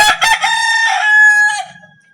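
A rooster lets out a single loud, close crow that starts with a couple of short rough notes, holds a long strained tone, and then trails off.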